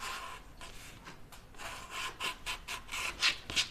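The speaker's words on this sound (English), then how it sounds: "I think I'm going to trim it up" Fabric pattern pieces for a sweater are trimmed with quiet, close rubbing and cutting strokes, coming as a string of short, irregular bursts that grow more frequent toward the end.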